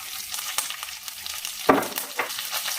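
Curry leaves crackle and sizzle in hot oil with mustard and urad dal in a pan, a soft, spattering frying sound with one brief sharper pop, fairly quiet and with no talk.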